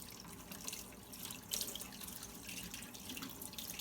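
Steady running tap water splashing into a sink as a spoon is rinsed, with faint clinks and rinsing under the flow, fairly quiet and continuous.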